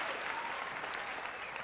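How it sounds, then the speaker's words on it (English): A soundboard plays a steady burst of crowd applause, dense and even from start to finish with no pauses. "Get you some claps in."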